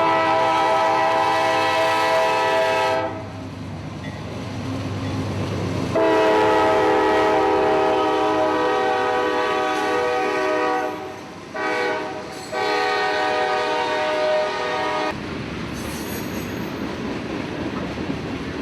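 CSX GE freight locomotives on the Folkston funnel line sounding a loud, sustained multi-tone horn as they pass close by, with the deep rumble of diesel engines and rolling wagons underneath and the horn blasts returning several times.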